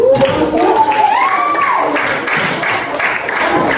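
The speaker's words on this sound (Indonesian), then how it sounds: "Sekarang kita kasih aplaus dulu" Classroom applause for a student's presentation: a sustained wash of many hands clapping together, steady and fairly loud across the whole stretch, with a voice briefly rising over it near the start.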